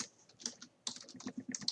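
Rapid clicking of keys on a computer keyboard while writing Python code, close and fairly quiet, in two short bursts separated by a brief pause, with no talk.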